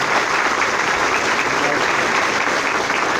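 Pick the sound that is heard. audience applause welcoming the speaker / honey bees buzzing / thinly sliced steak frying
audience applause welcoming the speaker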